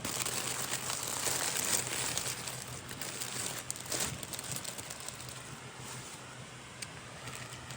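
A small gift bag being opened and unpacked, giving close, continuous crinkling and rustling of paper with brief crackly bursts, fairly quiet and with no talking.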